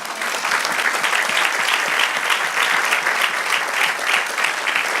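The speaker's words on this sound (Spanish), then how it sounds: "Dale un aplauso al Señor." A church congregation claps steadily and enthusiastically, sustained applause filling a large room without any voices on top.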